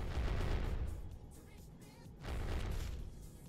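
Cannon fire booms in a video game, two heavy low blasts about two seconds apart, each with a long rumbling tail, loud and close, with no talk over them.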